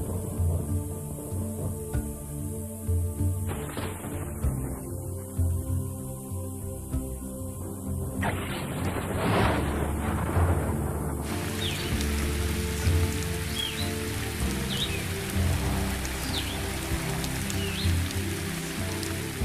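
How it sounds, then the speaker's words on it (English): Heavy rain pours down steadily in the wild at the onset of the season's first big thunderstorms, a dense hiss of drops on the ground that swells and thickens, with bursts of broadband noise partway through and no voices. "And the big thunderstorms, bringing the season's first heavy downpours,"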